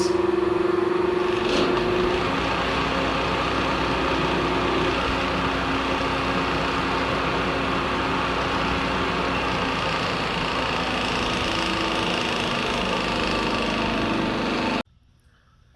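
A three-phase AC motor with no load connected runs on a soft starter, giving a steady mechanical hum and whir close by for about fifteen seconds before cutting out abruptly near the end.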